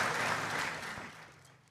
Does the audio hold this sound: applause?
yes